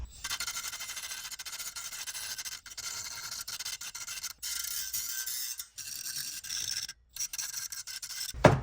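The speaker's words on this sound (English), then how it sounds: "Grind a spot for the ground clamp and also grind a spot where I'm going to weld the original spot weld back on." Handheld grinding on the sheet-metal body of a 1969 convertible to clean spots for welding, a raspy high scraping whine in repeated passes with brief pauses, close, no talk.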